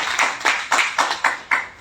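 Slow, rhythmic clapping at a direct selling meeting, about six evenly spaced loud claps close by, with no talk over them.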